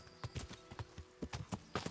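Horse hooves clip-clopping while riding along a narrow path in Kingdom Come: Deliverance, a quick irregular run of soft close hoof beats.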